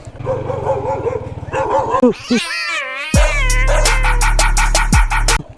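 A dog barks in several sharp, close bursts, with loud harmonic yelps that repeat quickly toward the end; a voice is heard briefly earlier on.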